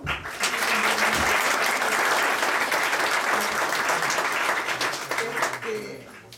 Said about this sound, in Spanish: aprovechemos para aplaudir y agradecer sus aportaciones a cada uno de ellos